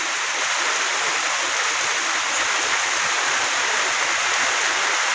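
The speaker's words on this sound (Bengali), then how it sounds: "দেখেন কি বৃষ্টি নামে।" Heavy rain pours down in a village, a dense, loud, unbroken hiss of falling water with no pauses.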